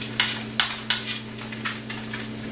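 Eggs frying in a pan for huevos rancheros: a constant sizzle beneath a low steady hum, cut by repeated quick scraping strokes of a spatula at a regular pace.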